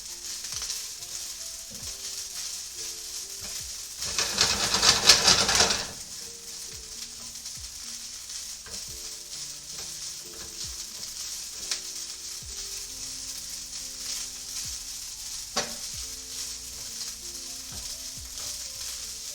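Togarashi shrimp and vegetable fried rice frying in a pan, a steady close sizzle throughout with a louder burst of crackling for a second or two partway through, then settling back to an even hiss with occasional faint stirring clicks.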